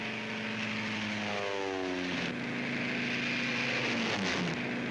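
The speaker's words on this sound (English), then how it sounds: "These are the first ships to take off in the airborne invasion of Fortress Europe." Propeller-driven WW2 pathfinder aircraft take off at the start of the airborne invasion, producing a continuous loud engine drone whose pitch slides and shifts as the planes pass, with no voices.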